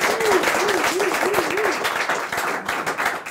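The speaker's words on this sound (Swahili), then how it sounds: "Wapi makofi ya Mr. T and Man Kush?" Studio audience applause for Pastor T and Man Kush on a Kenyan talk show, a dense steady patter of many clapping hands with a voice rising briefly over it.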